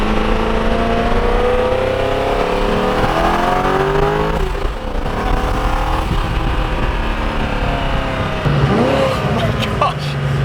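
A Koenigsegg supercar accelerates hard, its engine note climbing steadily through sweeping pitch changes, loud and continuous, with some voices mixed in beneath the roar.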